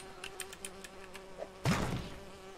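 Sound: bees being dropped on an enemy in the video game Lego Lord of the Rings

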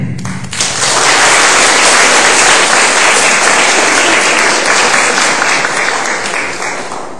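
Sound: audience applause

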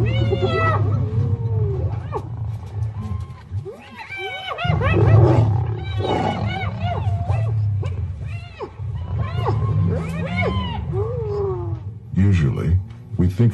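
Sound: hyena calls during assault on lions

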